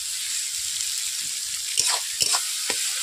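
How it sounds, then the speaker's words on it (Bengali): Onions frying in a pan for a goat meat curry, a steady hissing sizzle with a few brief stirring scrapes and knocks near the end. "বন্ধুরা দেখতেই পাচ্ছেন পেঁয়াজগুলোকে আমি এইভাবে ভেজে নিচ্ছি"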